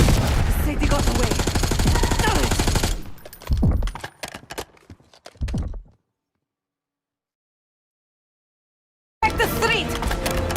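Loud, sustained gunfire from a Call of Duty Black Ops 6 street shootout, thinning into a few scattered bursts and clatter before dropping to silence, then rapid fire resumes at the end.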